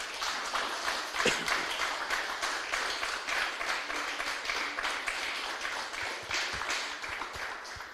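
A church congregation applauding, dense steady clapping from a crowd that continues throughout, moderately loud and even with no speech over it.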